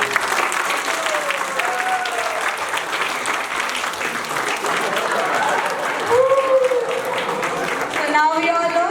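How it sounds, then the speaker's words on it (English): Parents clap in sustained applause at a play school's annual cultural fest, a dense steady crowd of hands filling the room, with some voices and cheers rising near the end. "Please have a big round of applause for the performance."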